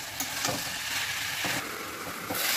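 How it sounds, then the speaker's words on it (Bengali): Michli fish frying in spice masala in a pan, a close, steady sizzle with several brief bursts of stirring. "আমি এবার মিশিলিটাকে ঢেলে দেব, দিয়ে আবারও আমি কষিয়ে নেব"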